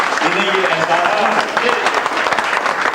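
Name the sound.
audience applause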